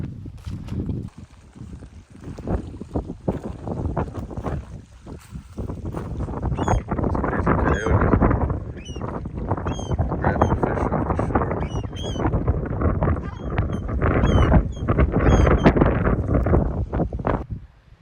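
Strong wind roars and buffets the microphone in gusts at a beach campsite in central Baja, loud and rumbling, with occasional thumps and rattles.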